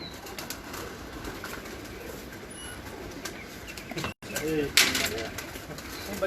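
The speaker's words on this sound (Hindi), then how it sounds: "बहुत ही आला पाए के और बड़े शानदार कबूतर हैं" Pigeons coo softly amid a faint background hum, with a brief flutter near the end; a person speaks quietly nearby, in Lalyani, Kasur.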